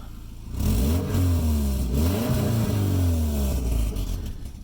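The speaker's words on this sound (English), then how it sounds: "I'll give it a little rev." A car engine with a cheaply patched exhaust muffler revs up and holds, a loud, raspy drone with rising and falling pitch sweeps, close by and with no talking.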